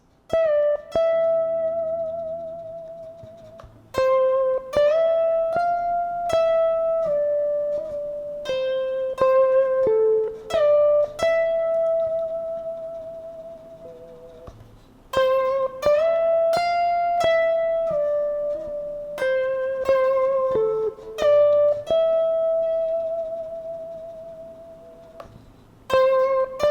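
A slow, looping guitar phrase from a song, with plucked notes ringing out one at a time, repeating its pattern twice, with no voices.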